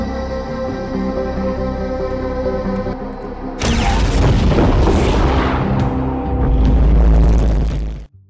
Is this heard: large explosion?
yes